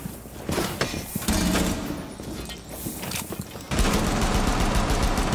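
Rapid bursts of gunfire ring out in Rainbow Six Siege, with dense, loud volleys, thumps and mechanical clatter running through the whole stretch.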